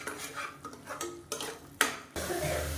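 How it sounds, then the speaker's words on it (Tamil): Onion-masala mixture sautéed in a pan for a side dish, heard as a series of scraping, clinking spoon-on-metal strokes with short pauses, ending in a steady sizzling hiss. "இப்போ இதையும் நல்லா வதக்கி விட்டுக்கலாம்."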